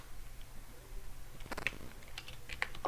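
Computer keyboard typed on while writing code, quiet at first, then a short burst of crisp key clicks arriving in quick, uneven bursts during the second half.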